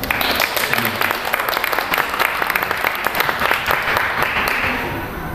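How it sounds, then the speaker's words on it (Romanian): Audience applause at a book launch event, steady dense clapping from a room of listeners that carries on through the whole stretch at close, full volume before easing slightly at the end. "Haideți să-l întâmpinăm cu un șir de aplauze."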